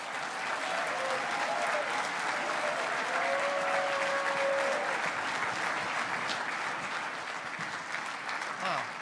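A conference audience claps steadily and densely for the whole stretch, the applause broad and sustained with no pause, and a faint tone wavering underneath.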